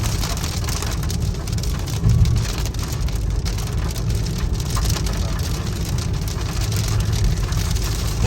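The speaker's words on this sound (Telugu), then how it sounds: "యాభై మీటర్ల రోడ్డు వరకే వర్షం పడుతుంది" Steady heavy rain pouring on a road, a dense continuous roar of drops with a low rumble underneath, loud and close with no talk.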